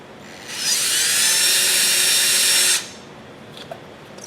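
A 1/8 inch bit drills into a wooden saltcellar, giving one steady, loud high-pitched whine that runs for about two seconds and then cuts off, with a couple of faint clicks afterward.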